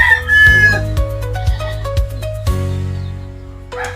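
A rooster crows nearby in loud, drawn-out calls, with other fowl clucking and squawking in short bursts around it.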